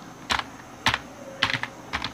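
Typing on a computer keyboard, heard close and clear as four short clusters of clicking keystrokes spaced across a couple of seconds, with no voices.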